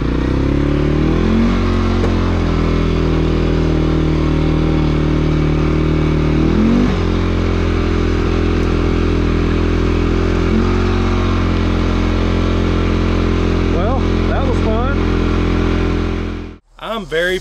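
A CFMOTO CFORCE 400 ATV engine drones steadily up close as the machine is ridden, with a few shifts in pitch and some clatter, then cuts off abruptly near the end.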